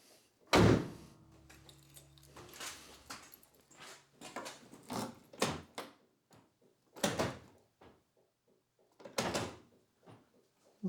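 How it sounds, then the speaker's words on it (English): A sharp mechanical clunk of a Volvo 945's central locking engaging, followed by a series of softer thuds and knocks with pauses between. "Central locking seems to work though."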